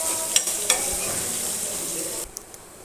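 Potato and carrot sauté with onion and green chili in a pan, giving a steady close sizzle with a few sharp utensil clacks, then the sizzle drops away near the end.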